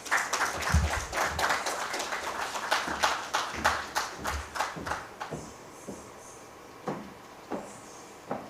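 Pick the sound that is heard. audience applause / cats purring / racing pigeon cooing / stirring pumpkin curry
audience applause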